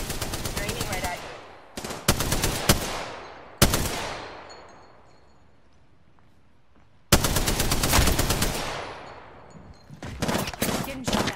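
Rapid bursts of automatic gunfire from the video game Apex Legends come in loud clusters, with a quiet gap in the middle before sustained firing resumes and then more short volleys.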